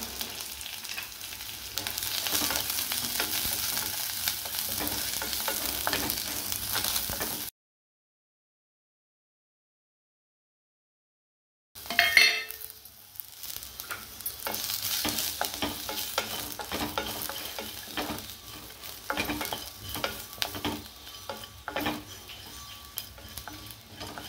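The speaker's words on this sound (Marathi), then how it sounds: "वाटण करण्यासाठी या ठिकाणी मी थोड्याशा तेलामध्ये कांदा घातला, खोबरं" Onion and grated coconut frying in a little oil for a masala paste give a steady, close sizzle with stirring scrapes; it cuts to silence for a few seconds, then the sizzling resumes with a sharp clatter.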